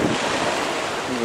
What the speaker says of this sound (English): some proper little waves here